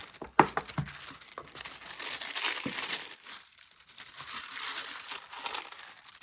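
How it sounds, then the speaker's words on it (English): Mulberry tissue paper packaging from an agenda box crinkles and rustles as it is handled and put away, with a sharp crumple near the start followed by softer, continuous crinkling close by. "Let me just put packaging away."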